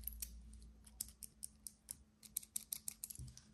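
Metal clasps from fake Breitling watches handled and snapped, giving a quick irregular run of faint, crisp metallic clicks and ticks, close up and without talk.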